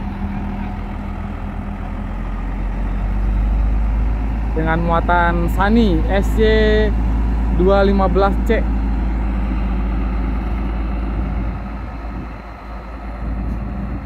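An AJT Trans truck rumbles at low idle while rolling onto a ferry at Merak port, a steady heavy engine drone with someone talking over it in the middle.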